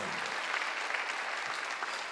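Congregation applauding during a Korean church Sunday worship service, a dense, steady wash of many hands clapping at moderate volume for about two seconds.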